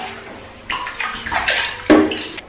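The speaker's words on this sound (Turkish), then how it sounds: "Şimdi şu porçözü dökeceğim bir müddet." Toilet cleaner poured into a toilet bowl during bathroom cleaning in a newly built home: a close, splashing, gurgling liquid flow in uneven surges with a sharper splash near the end, no talking.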